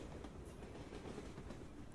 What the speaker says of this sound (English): The train moves from the station, pursuing an unknown goal.